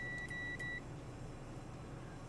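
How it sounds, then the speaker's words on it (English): A multimeter in continuity mode, used to check the fuses on a lightning-struck PS5 that has no power, gives two or three short, steady electronic beeps in quick succession. Each beep is clear and close, followed by a quieter hiss. "So, continuity, otherwise known as beep beep mode."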